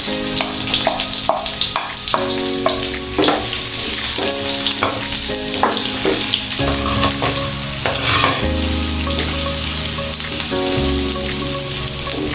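Onions hit a pan of golden-brown garlic for a sautéed Filipino vegetable dish and fry with a loud, steady sizzle, broken by repeated scrapes and clinks of a stirring utensil.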